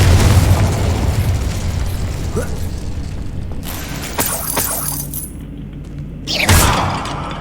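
A Confringo spell cast in the video game Hogwarts Legacy sets off a loud, close explosion: a heavy booming blast with a rumbling tail, followed by crackling debris and a second burst near the end, with no talking.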